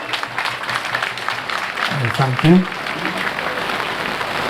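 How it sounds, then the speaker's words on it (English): An assembly of students and guests at a Ugandan high school patriotism day claps loudly and steadily, a dense ongoing roar of hands, with a brief spoken thanks cutting through partway. "Let us give God a thunderous clap."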